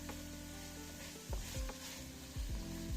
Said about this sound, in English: Just let that saute. The juices from the vegetables will deglaze the pan and reduce down.